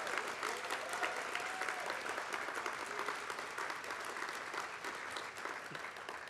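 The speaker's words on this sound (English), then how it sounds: "You can applaud." An audience at a charity gala in Boston applauds steadily, a dense wash of clapping from a large crowd that holds at an even level throughout.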